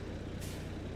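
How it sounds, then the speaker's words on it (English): A single short hiss of air brakes on a tractor in Farming Simulator 22, breaking over a steady low engine drone. "I know it's got air brakes"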